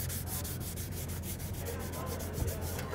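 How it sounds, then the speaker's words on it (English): Sandpaper rubbing steadily back and forth over a flat wood surface outdoors, a close, continuous scratchy rasp with regular strokes and no talking. "Just get to the sharp sandpaper, do the cutting you need to do, no more than, you know, making it flat."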